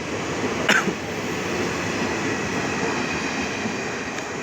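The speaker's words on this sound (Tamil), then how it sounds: "ட்ரெயின் அப்படியே மெல்ல மெல்லமாக ஃபாஸ்ட் ஆகும் மூவ் ஆகும் அது அப்படியே பறக்கும்" A train pulls away from Vadakara railway station in Kozhikode, its wheels and carriages rumbling steadily and close. A brief sharp screech comes early, with no voices.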